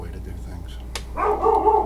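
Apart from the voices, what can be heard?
dog barking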